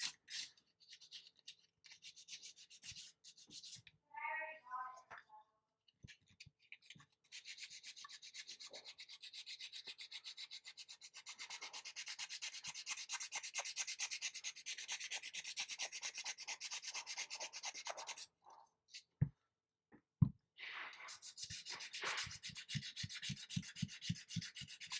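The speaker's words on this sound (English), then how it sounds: "I think this is 180 grit that I'm using right now." 180 grit sandpaper rubs across the smooth neck of a primed figure sculpt in a quiet, close, scratchy rhythm of short strokes, with a few brief pauses and small taps between passes.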